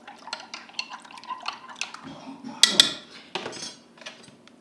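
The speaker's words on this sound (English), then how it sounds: "I'm going to stir it well, make sure there are no lumps" A spoon stirs cornstarch into water to dissolve the lumps, making light clinks and taps against the container with soft liquid swishing. The sounds are close and fairly quiet, with one louder clatter midway.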